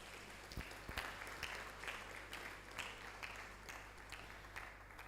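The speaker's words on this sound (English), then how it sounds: "Can you please clap for Marie Curie?" An audience claps for Marie Curie during a women-in-chemistry talk, a faint, steady wash of applause that carries on throughout.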